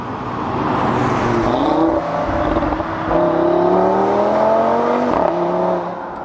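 Stock Audi RS3 engine revs and pulls through the gears with a smooth, rising exhaust note, loud and sustained, with brief dips at shifts and no talking.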